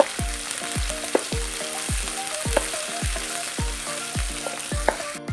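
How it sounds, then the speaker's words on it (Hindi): Thickly chopped onions fry in about half a cup of hot oil, a steady close sizzle with repeated stirring scrapes and clinks of a spoon against the pan, no voices. "हमने 1/2 कप के करीब ऑयल डाला है। अब हम इसमें डालेंगे प्याज।"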